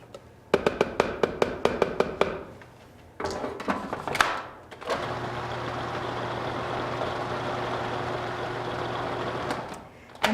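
A food processor whirs through a chocolate mixture of cocoa powder, running steadily for about five seconds after a burst of sharp clicks and knocks from handling the bowl and lid.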